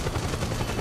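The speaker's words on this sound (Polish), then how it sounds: "Kurde, mógłby ten śmigłowiec troszkę odlecieć" A helicopter in the Metal Gear Solid 4 video game gives a faint, steady rotor thrum, low and continuous, with no talk over it.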